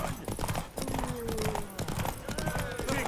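Horse hooves clip-clopping in The Witcher 3 during a race, a brisk steady gallop with voices shouting and talking over it.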